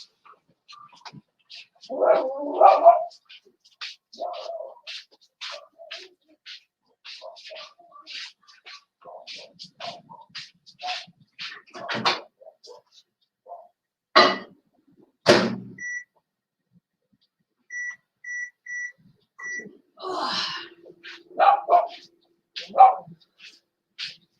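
An older dog barks repeatedly outdoors in the wind, with short sharp barks and a few whimpers scattered through long quiet gaps, plus a couple of loud knocks and a series of faint electronic beeps.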